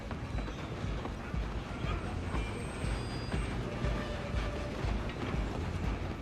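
A moving train in the Red Dead Redemption 2 video game rumbles and clatters steadily, with faint high metallic squeals, beneath a dense game soundscape.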